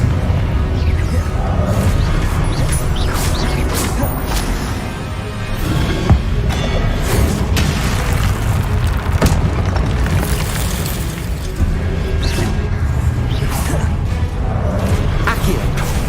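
Fiery Confringo spell blasts in the Hogwarts Legacy video game, a run of loud booming explosions with crackling bursts over continuous dense game effects and music, one sharp blast standing out near the middle.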